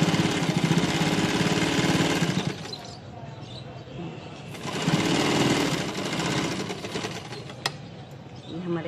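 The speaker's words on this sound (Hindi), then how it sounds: "ये देखिए हम इस तरीके से इसे रख के इसे स्टिच कर लेंगे।" An electric sewing machine stitches a sleeve trim in steady, rapid whirring runs, pausing briefly in the middle before starting again, close and fairly loud.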